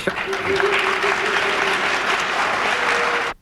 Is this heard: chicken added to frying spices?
no